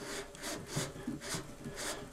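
Sandpaper rubs against a recording cylinder turning on a mandrel, producing repeated rasping strokes in a steady rhythm, about five passes, close and fairly quiet.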